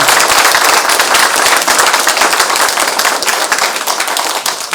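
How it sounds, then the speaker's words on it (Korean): Loud, dense, sustained applause from a lecture audience in a hall thanking the speaker Doh-ol Kim Yong-ok, steady and enthusiastic throughout with no voices over it. "다시 한번 열렬한 박수를 부탁드립니다"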